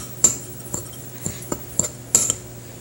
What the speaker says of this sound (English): right now I'm just mixing up the dry ingredients